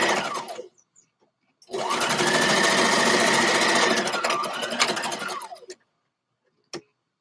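A sewing machine stitches a seam in one continuous whirring run of a few seconds, with a short burst just before it and a small click after it stops.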